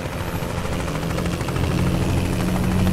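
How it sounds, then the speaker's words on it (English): A police helicopter in American Truck Simulator, set in New Mexico, gives a loud, steady, throbbing rotor drone that holds constant throughout with no speech. "And a police helicopter."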